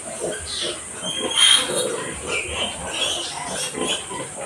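A group of freshly bathed pigs, a boar among them, grunting and snuffling close by in a rural pen, soft continuous low grunts with a few louder squeals, a voice talking faintly underneath.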